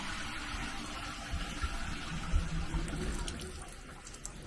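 Water running steadily through newly connected toilet plumbing, a faint continuous trickling rush with low thumps and no speech.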